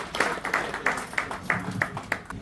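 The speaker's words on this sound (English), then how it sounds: "I want each and every one of you to give a big round of applause" A handful of audience members at an AI adoption and innovation event clap in a sparse, rhythmic pattern, each clap distinct and fairly close, repeating roughly every few tenths of a second.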